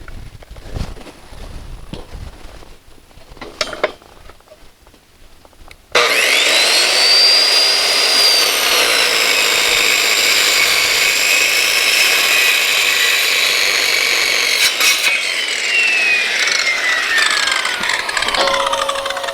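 A power saw with a carbide blade cuts through metal, starting after a few seconds of quiet shuffling and then screaming loudly and continuously up close, its pitch sliding as the blade bites and eases off.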